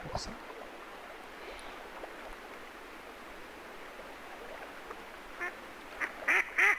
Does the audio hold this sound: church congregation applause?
no